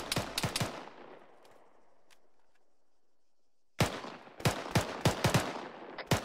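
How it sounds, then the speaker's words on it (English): Gunfire in the military video game Arma during a squad skill training session, with sharp close bursts of shots at the start, a quiet decaying gap, then a loud rapid string of shots resuming. "All units, one line, return fire to the southeast."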